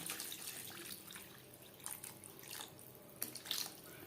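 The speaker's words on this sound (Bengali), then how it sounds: "এবার দিয়ে দেব জল।" Water pours into a pot of Bata fish curry with potatoes after the potatoes are sautéed in spices, a faint, steady trickle with a few brief splashy bursts near the end.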